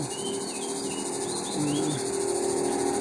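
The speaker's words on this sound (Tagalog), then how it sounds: "Grabe ang kuliglig dito." Dense, steady chorus of crickets chirping near Fanling Temple in Hong Kong, a continuous high trilling that fills the outdoor air with no speech, rising slightly in loudness partway through.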